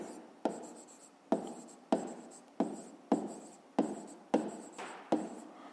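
Pen strokes writing numbers by hand on paper during a fifth-grade maths exercise, eight sharp scratchy strokes at a steady rhythm, close and moderately loud, each fading before the next, with no talking.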